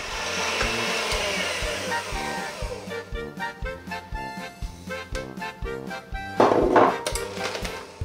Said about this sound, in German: Bei dieser Butter gebe ich jetzt in eine Schüssel und schlage sie cremig auf.